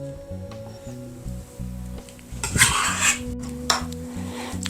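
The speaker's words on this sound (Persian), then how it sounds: "حالا سبزی و سیر و روغن رو با هم مخلوط کنید" A utensil stirs chopped parsley, herbs, garlic and oil in a metal pan, scraping and clinking in an irregular rhythm with a louder rasping flurry midway, close and clear.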